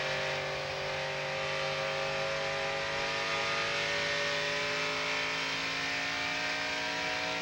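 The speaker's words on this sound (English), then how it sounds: "these guys are really playing with that throttle in the middle of the corner" NASCAR Xfinity Series race cars at Homestead-Miami Speedway in 1998, engines droning steadily as drivers work the throttle mid-corner, sustained loud V8 tones shifting in pitch with no talk over them.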